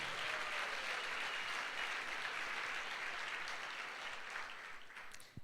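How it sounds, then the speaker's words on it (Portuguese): A church congregation breaks into dense, sustained applause, a continuous wash of many hands clapping at steady volume that fades slightly at the very end. "Quem recebe, dá um aplauso aí a Jesus."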